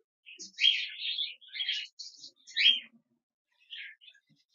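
Caged pet birds, adult and semi-adult hand-fed pairs, give several short, bright chirping bursts close by, with brief pauses between and one last call after a gap.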